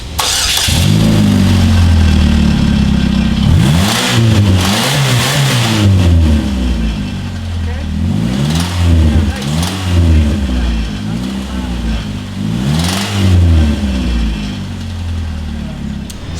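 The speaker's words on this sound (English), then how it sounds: "now it's time to start it up and see how it sounds" A car engine cranks, fires up and revs hard in repeated rising bursts, loud and close, with a rough idle between the pulls while the car is prepped for the Cleetus and Cars 2020 event.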